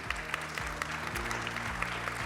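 An audience at a business governance conference in France claps steadily, dense even clapping over a low rhythmic music bed with regular thumping beats.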